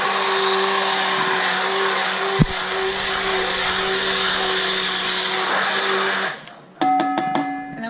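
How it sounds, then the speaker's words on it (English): A kitchen blender runs steadily, blending beans with a loud, sustained motor whine for about six seconds before it cuts off, leaving a brief tonal clatter and hum at the end. "Okay, so back to blending here"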